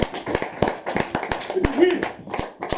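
A church congregation claps for the Lord in a steady series of sharp, close handclaps, with singing and voices from the worshippers running underneath.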